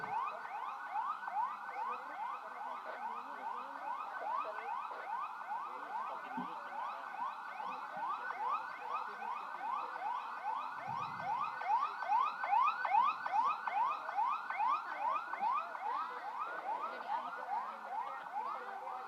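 Ambulance siren sounding during a fire-extinguishing and first-aid drill at a Semarang power plant, a continuous run of rapidly repeating rising wails, steady and somewhat distant, with no talking over it.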